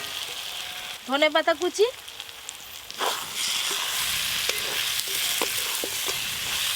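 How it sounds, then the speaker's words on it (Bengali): Bhetki fish bones fried in spice paste in a pan, a steady close sizzle with stirring scrapes, heard behind a brief spoken phrase. "এবার ভেজে রাখা ভেটকি মাছের কাঁটাগুলো দিয়ে দেবো, দিয়ে কষে নিলেই হয়ে যাবে"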